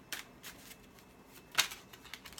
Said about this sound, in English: So let's have a look at your little oracle cards here.